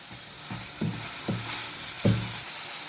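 Chicken karahi frying in a pan, a steady sizzle with several soft stirring thumps and scrapes at an uneven rhythm, close and moderately loud with no talking.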